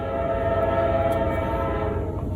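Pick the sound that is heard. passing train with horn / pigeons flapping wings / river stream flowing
passing train with horn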